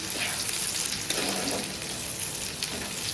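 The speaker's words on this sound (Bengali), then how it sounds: "এখন দিয়ে দিচ্ছি কাঁচা লঙ্কা আর টমেটো এটাকে একটু ভালো করে কষিয়ে নেবো কিছুক্ষণ" Green chilli and tomato fry with already fried onions in a pan, making a steady close sizzle with a few faint stirring scrapes.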